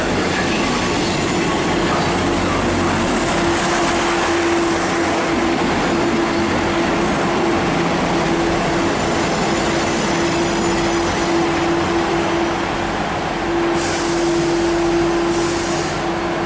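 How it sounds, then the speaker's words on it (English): A blue Great Western Railway class 158 diesel unit, 158958, rolls into Bath Spa station on a Portsmouth Harbour to Bristol Temple Meads service, a loud, continuous rumble with a steady tone and occasional brake squeals. "arriving now is the other 12:36, Great Western Railway service to Bristol Temple Meads from Portsmouth Harbour, and it is a blue"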